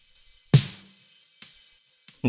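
Snare drum hits layered with a sample strike three times, the first loud and full-bodied with a weighty low thump, the later ones lighter, each decaying quickly.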